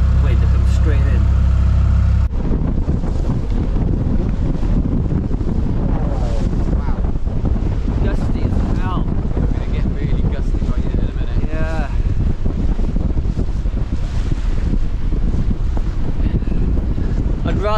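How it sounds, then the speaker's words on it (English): Strong wind buffets an anchored sailboat in New Zealand's Marlborough Sounds, roaring steadily into the microphone with water and rigging noise beneath, while voices talk over it. "The wind is coming straight in."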